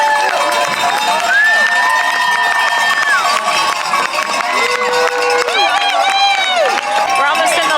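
Crowd cheering and shouting for runners finishing a race in Colorado, loud and continuous with whistles and cowbell-like clangs, sustained through the whole stretch.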